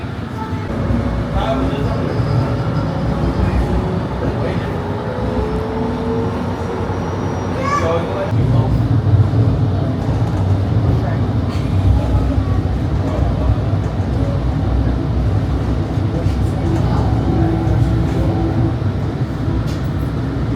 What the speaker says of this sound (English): there's the Mall of America train